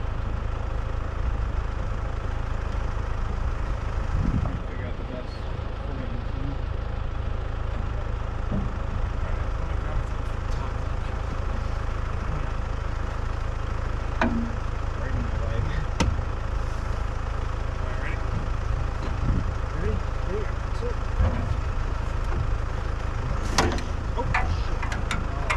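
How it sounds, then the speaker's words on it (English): A tractor engine runs steadily in the background beside a shut-down Dyna SC-16 firewood processor, a constant low drone with faint occasional clicks and knocks. "the equipment that you hear running is my tractor in the background"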